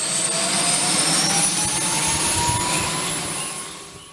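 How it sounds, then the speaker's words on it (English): A K-MAX synchrocopter with intermeshing counter-rotating rotors roars loudly and steadily close by at a wildfire, its whirring drone easing off slightly at the end. "an aircraft that uses two sets of synchronized rotor blades spinning in opposite directions to create lift"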